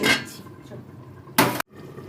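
A lid goes onto a pan of potatoes frying with black pepper, giving one short, bright clatter over a soft sizzle, close by, before the sound cuts off abruptly.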